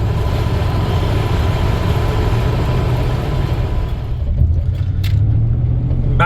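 An old Ford F-150 pickup with a 5.8-liter V8, set up for towing, rolls along a country road with a steady low engine rumble and road noise that eases slightly near the end, with no talking.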